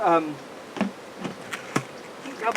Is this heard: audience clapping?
no